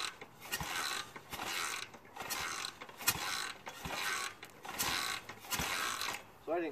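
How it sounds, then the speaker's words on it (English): A 1967 BSA 441 Victor motorcycle is kicked over repeatedly with its kickstarter, making a steady series of ratcheting, creaking strokes about every second, close and moderately quiet. "so I always kick it over 15 or 20 times like that"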